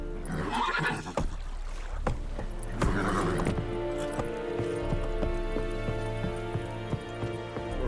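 Geralt's horse Roach lets out a loud, close neigh near the start in The Witcher 3, followed by hoof and harness clinks over a steady low ambient game drone.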